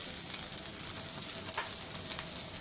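Onion pieces frying in a pan, a faint, even sizzle close by with light stirring crackles, steady and without voices.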